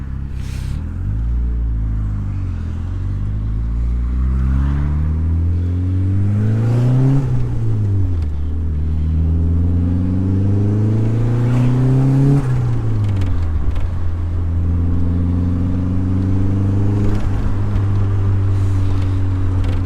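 A Mk2 car with a freshly rebuilt 1.8T engine, running low boost, drones under load on back roads, revving up through several gears with pitch rising and dropping at each shift, steady and close.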